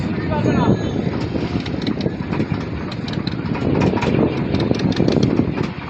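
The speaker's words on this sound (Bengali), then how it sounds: "এখন নৌকোটা ঘোরানো হবে অবশ্য নৌকোটা ঘোরানো হচ্ছে" A tourist boat's motor idles and chugs steadily at Sonakhali in the Sundarbans as the boat turns, a loud continuous low drone with a rhythmic thrum, close by and unbroken for the whole stretch.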